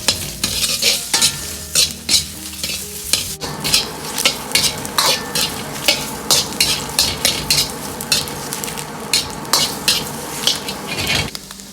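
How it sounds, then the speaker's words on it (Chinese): Dried chili peppers dry-fried in a hot, oil-free wok for a chili pork dish, with steady rhythmic scraping and tossing strokes over a constant close sizzle. "另起锅，把锅烧干，不用放油，下入辣椒，直接这样干煸炒。"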